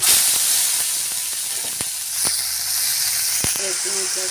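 Black cumin and spices sizzle in hot oil during Bengali home cooking, a steady close hiss broken by sharp pops and crackles, with a faint voice in the background.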